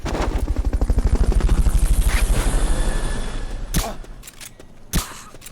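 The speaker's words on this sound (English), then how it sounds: "Recovery subject confirmed on board helicopter." A helicopter in the video game Metal Gear Solid: Peace Walker beats with loud, rapid rotor chops that fade after a few seconds, followed by a couple of sharp bangs.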